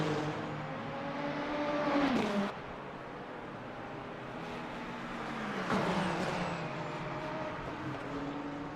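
Race cars circle the Sebring track in the Le Mans Ultimate sim racing game, a Ferrari among them. Engines rise and fall as two cars sweep past one after another at moderate distance, over a steady low rumble.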